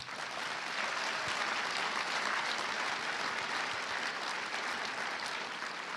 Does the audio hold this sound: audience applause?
yes